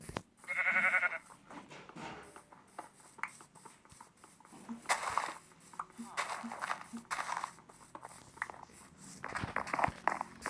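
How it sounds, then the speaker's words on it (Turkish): A short Minecraft black sheep bleat, close and clear, followed by scattered footstep and clicking noises. "siyah koyun buldum"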